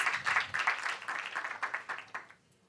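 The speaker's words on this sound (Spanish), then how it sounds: "Un fuerte aplauso para todos los panelistas." Audience applause at a panel discussion on innovation in food safety and data. It is a dense burst of clapping that holds steady, then thins out and fades over about two and a half seconds, with no voices.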